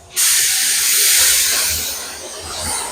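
Can of gloss spray paint sprayed onto a surface in one continuous close hiss that starts abruptly and runs for a few seconds, fading slightly toward the end.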